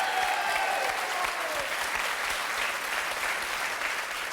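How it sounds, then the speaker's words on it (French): A studio audience on a French TV game show applauds in a steady, dense wash of clapping that holds at an even level throughout, with no talk over it. "on peut applaudir Barbara parce qu'elle est pas loin à chaque"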